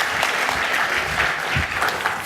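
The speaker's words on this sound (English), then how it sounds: "A round of applause." An audience at a social media conference in Hong Kong applauds in a dense, even wash of many hands clapping, held at a steady level for the whole stretch with no voices on top.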